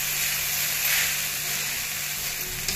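Sago pearls (sabudana) sautéing in a pan give a steady, close sizzle with a soft hiss, unbroken and even throughout.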